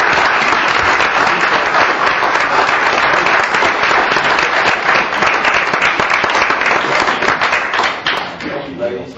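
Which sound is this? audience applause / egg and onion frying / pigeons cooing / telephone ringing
audience applause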